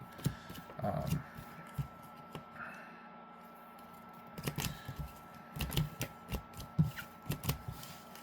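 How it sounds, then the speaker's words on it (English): Playing cards are shuffled in several bursts of crisp riffling and slapping, with quieter handling noises between them. "Let's shuffle thoroughly."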